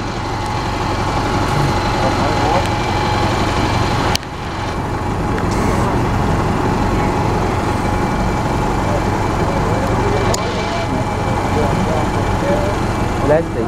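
A number 11 bus passing on a road in Totton, its engine a loud continuous rumble close by that holds steady for many seconds amid traffic noise, with a sharp knock partway through.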